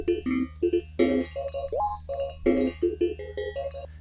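Omnisphere 2.6 synth arpeggiator pattern playing a bright, rhythmic sequence of short stepped tones over a steady low drone, moderately loud and alone.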